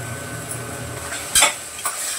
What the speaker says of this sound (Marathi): पण मसाल्यांमध्ये बघा मी चवळी अशी मस्त परतून घेतली, एकदम चांगली परतवली